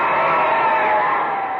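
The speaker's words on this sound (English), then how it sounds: "Listen to this crowd cheering the winners." A stadium crowd cheers the winners of a football game, a dense, sustained roar of many voices blending into one even wall of sound at close range.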